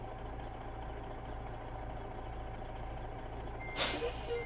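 A Western Star 4900ex truck in a driving game idles steadily in reverse with a low engine drone, then a loud hiss of air brakes bursts out near the end.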